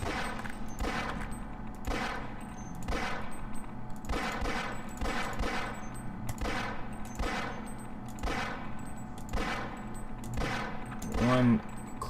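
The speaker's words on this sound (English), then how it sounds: "it takes exactly one magazine of the Glock to take out a bull squid" Rapid Glock pistol fire at a bull squid in Half-Life, a regular string of sharp shots at roughly one per second, evenly spaced and moderately loud over a low game hum, ending in a louder burst.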